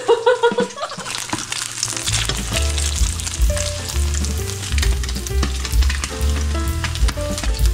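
Slices of spam fry in a hot pan with a loud, steady sizzle. A few scraping, clattering stirs open the sound before the crackle settles into a continuous hiss.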